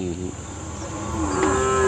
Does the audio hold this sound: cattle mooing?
yes